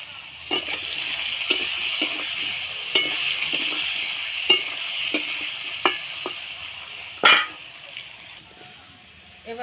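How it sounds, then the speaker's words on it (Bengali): Papaya and potato pieces sizzle in hot oil with turmeric as a spatula stirs them, scraping the pan in regular strokes over a continuous frying hiss, with one louder scrape near the end. "পেঁপে আলু আমার ভাজা ভাজা মতন হয়ে গেছে"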